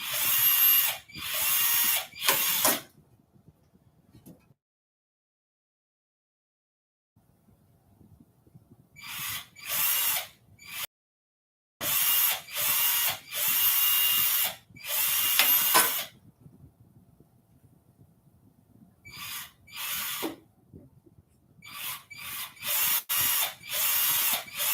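Power drill enlarging a hole in an aircraft structure test plate, whirring in several short bursts and longer runs separated by silent gaps, close and fairly loud.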